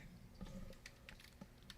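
Quiet clicks from a computer keyboard being tapped, a few irregular light keystrokes over a low background hum.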